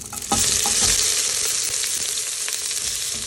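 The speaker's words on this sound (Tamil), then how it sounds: "தேவையான அளவு கொஞ்சம் பொன்னிறமாக வரது வரை நல்லா வதக்கிக்கணும்" Onion sautéing with garam masala in a pan for mutton pulao gives a loud, continuous frying hiss, with a few scraping stirs and clinks over the steady sizzle.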